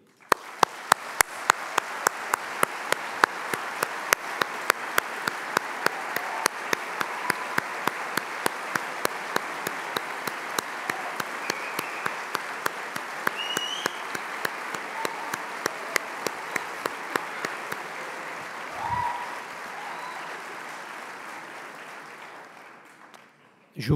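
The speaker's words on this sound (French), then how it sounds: "Je demande à vos proches, à vos parents et au personnel de vous applaudir." Graduates at the AgroParisTech 2024 diploma ceremony receive sustained applause from family, parents and staff filling a large hall. A rhythmic clap keeps time in unison over the dense crowd clapping, which gradually fades out near the end.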